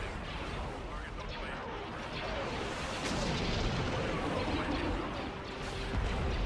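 Heavy cannon fire and explosions roar continuously in a Star Wars Empire at War space battle, a dense, loud barrage of booms and blasts with a sharper surge near the middle.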